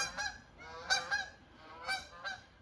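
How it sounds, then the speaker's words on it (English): Geese honk outdoors in scattered bursts, several harsh calls a little distance away and moderately faint, with no talk over them. "Oh, there's the geese."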